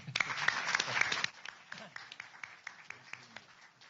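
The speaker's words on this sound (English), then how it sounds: "please join me in one more round of applause for Deputy Secretary Rosen" Audience applause at a transportation competition event, a burst of dense clapping for about a second that quickly thins into scattered individual claps.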